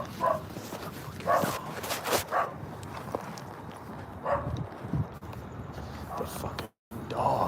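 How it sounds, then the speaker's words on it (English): A dog barks several times in short, separate bursts against indoor background noise, moderately close and loud. "Why is there a fucking dog?"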